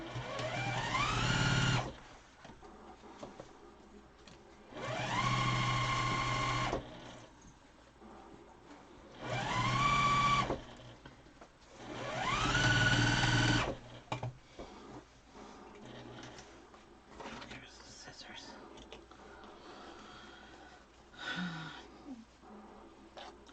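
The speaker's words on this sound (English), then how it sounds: "So I'm sewing, remember, just pull that thread right out." A sewing machine stitches a fabric mask in four loud bursts of a few seconds each, whirring with a rising pitch, separated by quieter pauses and a faint short run near the end.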